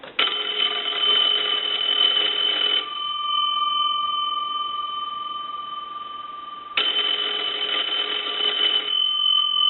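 Two bursts of the bells of an old Kellogg wooden wall telephone ringing loudly and close, separated by a few seconds of quiet, each ring a harsh metallic clatter.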